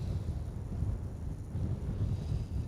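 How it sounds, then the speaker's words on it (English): Strong gusting wind buffets a microphone at a campsite in low, rumbling gusts, a steady blustery roar that swells and eases without any voices. "That wind got quite strong before."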